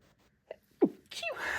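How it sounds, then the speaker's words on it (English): A single person's sneeze in a classroom being set up, a short intake of breath and sharp burst, followed by breathy noise; close and moderately loud, with no talk. "oh, I gotta sneeze."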